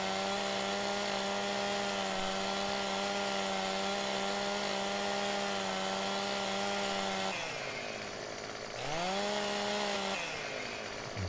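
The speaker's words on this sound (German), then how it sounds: "Welche Bäume kann ich da jetzt sägen?" A chainsaw in the game Farming Simulator 2015 drones steadily while cutting trees, holding a high revving pitch, then briefly dropping and rising again near the end; loud and close with no speech.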